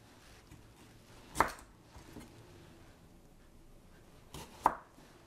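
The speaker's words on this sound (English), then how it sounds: "I'm going to cut these into quarters" A knife chopping carrots into quarters on a board, two distinct sharp chops a few seconds apart over quiet background, with a faint softer cut between them, no speech.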